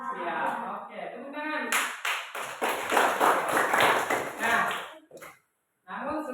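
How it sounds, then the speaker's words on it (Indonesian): A class of children claps together in a classroom during a lesson on plant parts, a dense burst of many hands lasting a few seconds, with a teacher's voice heard before it and a brief silence after. "Oke, tepuk tangan."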